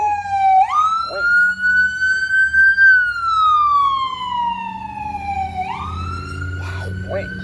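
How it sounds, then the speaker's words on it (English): An ambulance siren sweeps up and down close by at a crosswalk, very loud and dominant, with a low traffic rumble underneath. "That ambulance over here just scared the crap out of me."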